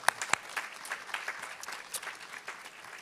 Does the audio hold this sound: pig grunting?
no